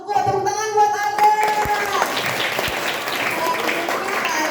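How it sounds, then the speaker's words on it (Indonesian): Children and adults applauding a child at a primary school bullying seminar, a short burst of clapping that rises quickly and fades after a few seconds, with a musical jingle at the start. "Tepuk tangan buat Arda."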